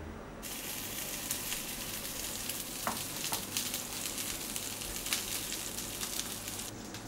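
Food cooks in a pot of boiling water, making a faint, continuous bubbling hiss with a few small clicks and pops throughout.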